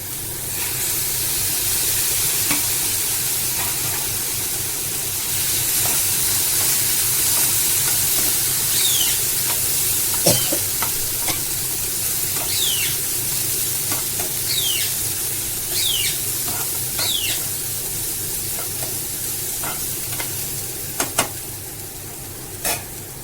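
Snake gourd stir-frying in oil with mustard seeds and curry leaves, tomato and onion, giving a steady close sizzle with occasional scraping stirs and small pops throughout.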